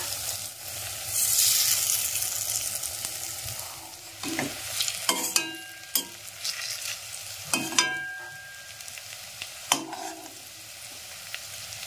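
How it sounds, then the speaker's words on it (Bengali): Onion fritters (peyaji) frying in oil make a continuous close sizzle, with several sharp spatters and pops scattered through and no voices. "আজ প্রথমবার আমি একা একা পেঁয়াজি ভাজলাম"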